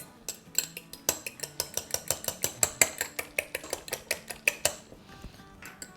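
An egg is whisked in a bowl for rasmalai, a fork or whisk clinking against the sides in a quick, steady run of about two dozen close metallic strokes that slows and fades near the end.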